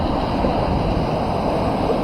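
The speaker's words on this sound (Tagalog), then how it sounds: "Medyo malaki-laki pa ang alon" Sea waves roll in at a quiet beach cove in Zambales, a steady close rushing surf with constant wash and no voices.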